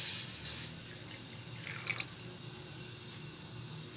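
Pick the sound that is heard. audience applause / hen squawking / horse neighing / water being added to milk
water being added to milk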